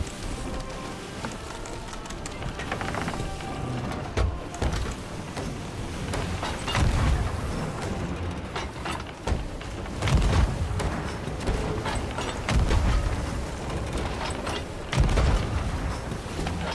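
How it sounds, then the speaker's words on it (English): Sea of Thieves ship cannons boom in a steady patter of rain and creaking sea noise, several heavy low thumps spaced a few seconds apart, moderately loud. "Firing cannons!"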